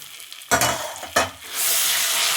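Curry leaves crackle in a hot oil tempering for gongura meal maker chutney: two sharp stirring knocks against the pan, then the sizzle swells into a loud, steady frying hiss up close.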